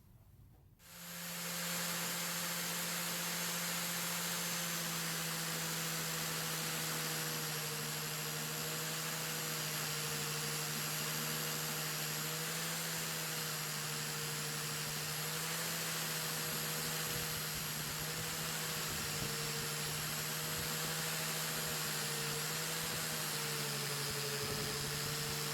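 A grinder hums steadily as it strips matrix rock from a garnet, a constant droning whine with a low tone that runs unbroken and fairly loud for the whole stretch.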